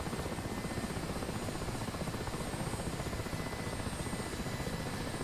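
Mi-8 helicopter engines throttling down in the DCS flight simulator, a steady broadband rotor and turbine roar that holds loud and even throughout with no talk.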